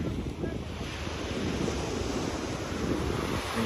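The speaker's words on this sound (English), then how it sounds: "I'm just gonna let you guys enjoy the sound of the beach" Ocean surf washing onto Coney Island beach in winter, a constant broad rush of waves mixed with gusty wind buffeting the microphone, steady and fairly loud.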